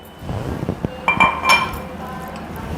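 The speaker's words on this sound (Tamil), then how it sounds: "அதற்கு பிறகு 2 தக்காளியை அதில் போட்டுக்கோங்க." Tomatoes dropped into a mixer jar while making roadside-style chutney: a few soft thuds followed by bright clinks and rings of the jar, close and brief.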